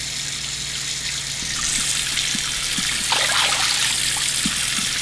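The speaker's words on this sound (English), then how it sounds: "we're going to fill this sink up just the same" Tap water steadily trickling and splashing into a large sink as it fills, a continuous close hiss with a few brief drips and splashes over it.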